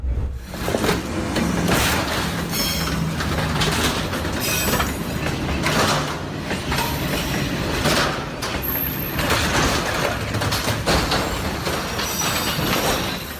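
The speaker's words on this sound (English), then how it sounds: "Them two trains coming by." Two trains pass close by with a continuous loud roar, rhythmic wheel clatter and occasional squeals from the rails, sustained for the whole stretch without speech.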